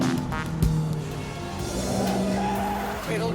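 A Japanese sports car engine under throttle, heard as a steady droning roar close by with a brief thump, the engine note holding and rising slightly as power is kept on.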